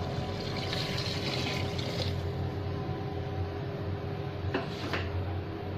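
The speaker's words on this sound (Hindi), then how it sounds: "मैं इसमें डाल दूँगी पानी।" Water poured into a pan of browned mutton chops for a gravy, a steady close splashing and trickling that runs throughout, with a brief clatter near the end.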